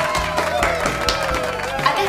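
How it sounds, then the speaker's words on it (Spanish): An audience applauds to welcome a guest onto a show, a dense wash of close clapping with some crowd noise and a voice speaking over it. "La recibimos con un gran aplauso"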